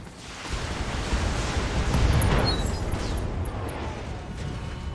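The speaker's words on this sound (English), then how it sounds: "Yep, ammo explosion." An ammo explosion in the mech combat game Battletech erupts as a broad, rumbling blast that swells and lingers for several seconds, loud and dense with a low roar.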